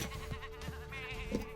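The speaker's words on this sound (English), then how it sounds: "Sheep!" Sheep bleat in the video game Tak and the Power of Juju, a few short, moderately loud calls over steady game background sound, with a clearer bleat near the end.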